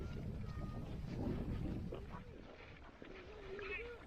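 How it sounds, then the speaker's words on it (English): Wind buffets the microphone along an exposed seawall near a lifeboat station, a low, rumbling gusty roar that swells and eases, with faint birdlike chirps and distant sounds mixed in. "The wind, the breeze is picking up a bit."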